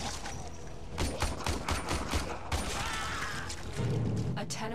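Gunfire at practice targets in the Warframe PS4 tutorial, a string of sharp shots with a brief pause, then more firing and mechanical game sounds, with voice-over speech.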